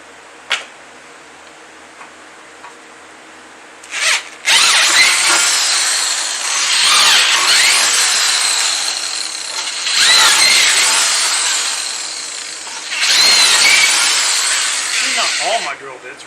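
A power drill with a dull quarter-inch bit bores into a Grasshopper mower's frame while its hydrostat belts are changed, running in three loud, whining bursts of several seconds each with short pauses between.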